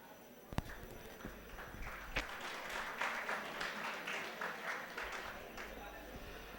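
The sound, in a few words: audience applause at ceremony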